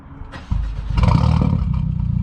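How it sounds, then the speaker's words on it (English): A Stage 2 Mercedes CLA with HKS aftermarket mufflers cranks and fires up, then settles into a deep, throaty idle with a brief rev, close and fairly loud. "let me have the owner start up the car and give it a few revs"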